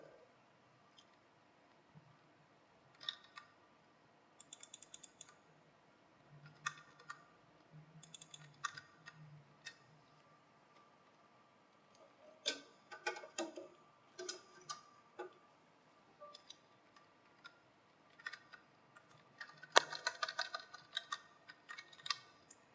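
Quiet, scattered clicking of a computer keyboard, irregular bursts of keystrokes with pauses between them, heard faintly and close.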